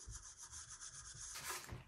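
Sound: sanding wood by hand

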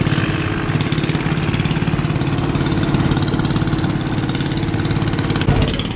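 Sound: boat engine running while moving the boat

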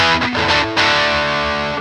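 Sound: electric guitar humbucker pickup sound, Gray Guitars Sustainiac Emperor

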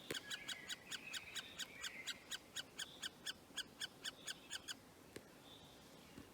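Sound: young birds calling in tree hollow

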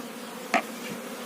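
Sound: honeybees buzzing

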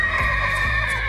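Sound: horse neighing, hot-blooded breed

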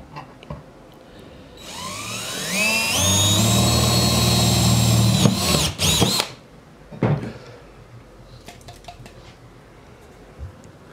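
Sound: bench drill drilling a hole

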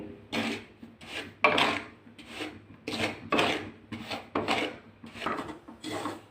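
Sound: dry-roasting semolina in a pan, stirring

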